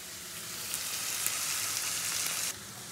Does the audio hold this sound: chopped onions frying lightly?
yes